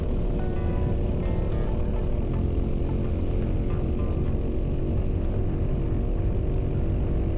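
Racing kart engines on a track in the Welsh hills, a loud, unbroken buzzing drone that stays close and steady throughout, with no voices.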